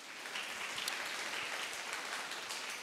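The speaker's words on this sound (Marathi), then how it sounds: "त्याने मोठ्याने टाळ्या वाजवून देवाला धन्यवाद देऊया" A church congregation at a Sunday youth service in Pune claims loudly and steadily, with dense applause sustained throughout and no speech over it.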